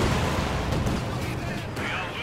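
Artillery fire in the Company of Heroes 2 strategy game: dense, continuous rumbling blasts and crackling explosions, loud and sustained throughout, with a voice talking underneath.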